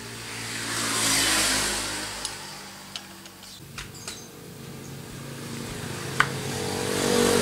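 A Honda Beat FI scooter engine idling and revving, its CVT and starter gear rubbing against the cover, with a low engine hum and scattered sharp metallic ticks and clinks.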